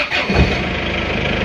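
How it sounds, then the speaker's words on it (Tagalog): A Toyota Hi-ace engine cranks and catches after power steering rack work, with a brief starter burst settling into a steady mid-pitched idle, close and alone with no talk. "So, paanda rin natin ang makina."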